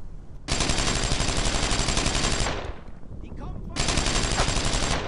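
Sustained machine gun fire in the World War II shooter Brothers in Arms: Earned in Blood, a loud continuous rattling burst that breaks off briefly and then resumes with another long burst.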